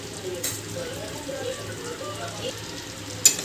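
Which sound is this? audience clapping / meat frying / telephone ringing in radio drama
meat frying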